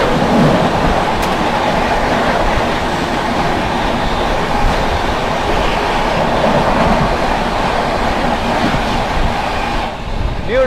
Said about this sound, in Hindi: सामने से आ रही है न्यू दिल्ली डिब्रूगढ़ राजधानी एक्सप्रेस